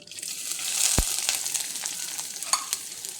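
Chopped onions and chillies dropped into hot oil with urad dal, sizzling and frying steadily with a few sharp crackles and stirring scrapes, close and fairly loud, no talking.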